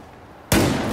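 A sudden loud bomb blast in Battlefield 4 erupts midway after a quiet moment, a broad booming burst that holds its roar to the end.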